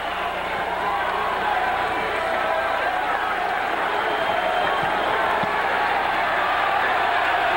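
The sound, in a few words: boxing crowd cheering at Madison Square Garden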